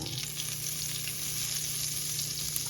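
Butter sizzles in a pan as the base for creamy garlic scallops, a soft, continuous crackling hiss with no talking.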